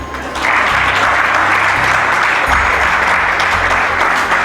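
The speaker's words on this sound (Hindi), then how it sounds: "अपने लिए तो तालियां बजा दो।" Loud audience applause at a youth national meet, a dense burst of clapping that starts abruptly and holds steady, filling the hall without talk over it.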